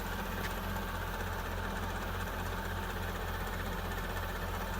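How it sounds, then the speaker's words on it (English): A 2002 Mercedes-Benz S55 idling in park, a steady low engine hum with faint mechanical ticking, quiet and even throughout with no voices. "So if it's sitting, idling in park like it is right now, you'll notice it."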